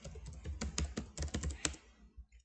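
Rapid typing on a computer keyboard, a dense run of close, crisp key clicks in irregular bursts that stops abruptly after about two seconds.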